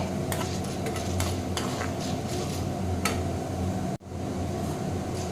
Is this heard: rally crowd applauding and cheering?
no